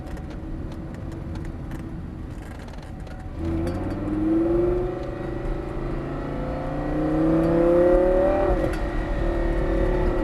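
A Lamborghini Gallardo on a supercar driving day pulls away and accelerates, its engine note rising in pitch, dropping at a gear change, then climbing again, loud and close over constant road and wind noise.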